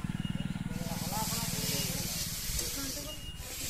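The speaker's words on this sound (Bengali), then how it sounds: "আলু ভাজা হচ্ছে" Potatoes fry in a pan over a clay stove, giving a steady loud sizzling hiss with crackling, and a rapid pulsing rumble at the start.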